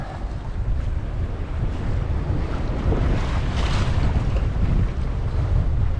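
A cruising sailboat working to windward under full sail in a reasonable blow at about 4 knots: loud continuous wind buffeting the microphone over rushing waves and hull wash, with no talk.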